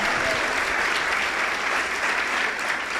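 A church congregation at a Christmas theatre service claps loudly and evenly, a thick, continuous wash of applause filling the room with no talking.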